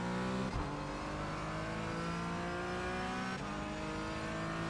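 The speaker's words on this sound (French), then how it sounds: "J'ai pas réglé le son, mon moteur il hurle." Race car engine in a Porsche GT4 racing game on the Nordschleife, a loud continuous high-pitched howl with rising and falling harmonic revs, a couple of brief dips as gears shift, filling the whole stretch with no talk.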